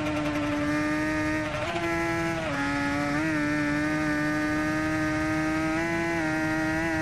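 Bimota 500 V-Due Corsa Evoluzione 2001 two-stroke racing motorcycle in the game Ride 2, its engine holding a loud steady high-pitched drone with brief dips and rises in pitch as the rider shifts and throttles, no voices.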